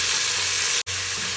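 Onions sizzling in hot oil in a pan for a chicken biryani, a steady, close frying hiss with a brief cut near the end.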